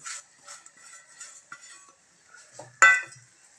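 Vermicelli roasting in ghee in a pan for kheer, with light scraping and clinking of a utensil against the pan, quiet and intermittent, then one sharp, louder clatter near the end.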